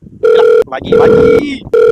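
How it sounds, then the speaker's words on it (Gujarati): A telephone rings in a Gujarati comedy sketch, three loud electronic tone bursts in a steady repeating pattern, with a voice speaking briefly in a gap between rings. "વાગી કોનો ફોન આવ્યો"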